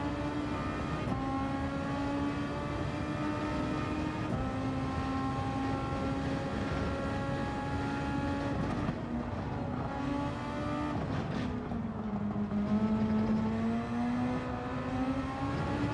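Race car engine in Gran Turismo 7 during a daily race, a loud continuous drone whose pitch rises and falls with throttle and gear changes over the whole stretch, with no other sounds standing out.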